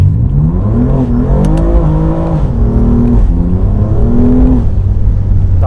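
BMW M4 engine revving loudly and close by, a continuous rough growl whose pitch climbs and falls in several rising sweeps, with no gaps and no talking.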